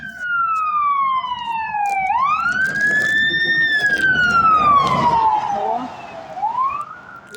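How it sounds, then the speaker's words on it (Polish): A fire engine's wailing siren sweeps up and down as it passes close by, loud over traffic noise, fading slightly near the end. "Jedzie y, straż pożarna."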